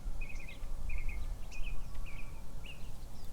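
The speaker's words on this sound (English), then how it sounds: "You hear the birds tweeting?" Birds tweet outdoors in short repeated chirping bursts, about five quick trills spaced evenly, faint against a steady background hiss.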